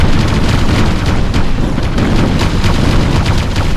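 Explosions and battle noise in the real-time strategy game Ground Control as an enemy Haverdyne is destroyed, a loud continuous wash of booms and rumbling with no clear break.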